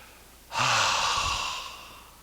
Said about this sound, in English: Breathe in deeply and let your spine get long. And then a big open mouth exhale.